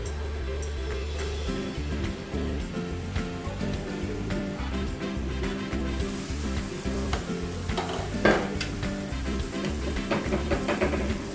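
Mixed vegetables for seafood lumpia sauté in a hot pan, a steady close sizzle and crackle punctuated by scraping stirs and the clink of a utensil, with no voices.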